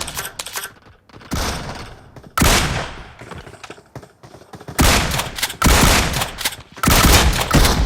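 Gunfire in the mobile battle-royale game PUBG Mobile: loud, dense bursts of rapid automatic shots with short gaps between volleys, close and dominating the mix.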